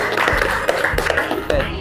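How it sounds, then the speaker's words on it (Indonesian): Group of students clapping for everyone after a classroom tower-building game, a brief scattered burst of hand claps mixed with voices. "tepuk tangan buat semuanya"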